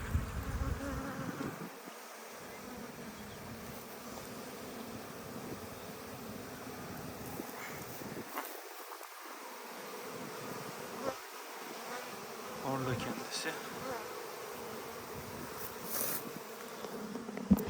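Honeybees buzz steadily around an open beehive during a swarm-prevention check, a dense, continuous insect drone at moderate level with occasional knocks and handling sounds, no speech.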